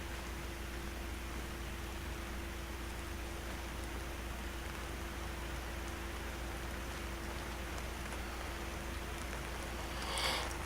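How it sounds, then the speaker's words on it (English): Steady rain in the video game VERGEL The Lost Chapters, a soft, continuous hiss of falling drops that holds evenly throughout, with a brief brighter swell near the end. "I really gotta stop listening to this rain"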